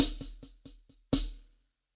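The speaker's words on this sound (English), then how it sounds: "6-stroke roll sounds like this." Six-stroke roll rudiment on a drum, a run of quick close strokes with a louder accent near the end, played alone in a dry room before ringing out.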